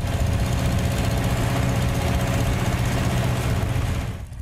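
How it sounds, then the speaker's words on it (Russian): A heavy ice-cutting machine saws through ice at the Irelyakh gold mine, a loud, steady, low engine drone with a grinding rasp that runs throughout and drops slightly at the end. "Затем на лед выходит тяжелая техника. Ее задача – выпилить лед по намеченным контурам."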